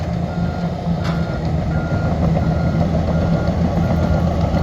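A large Hitachi excavator clearing earth at a dig site, its engine rumbling loudly and steadily nearby while a reversing alarm beeps faintly and repeatedly over it.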